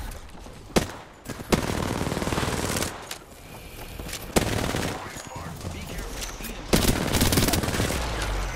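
Apex Legends gunfire: close, loud bursts of automatic fire with several sharp single shots spread across the stretch, while players talk over the shooting.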